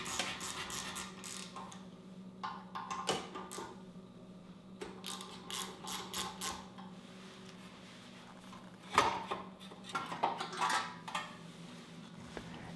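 Scattered metallic clicks, taps and light clatter while the stainless top cover comes off a Honda Africa Twin muffler, quiet and close, with irregular handling noises and no speech.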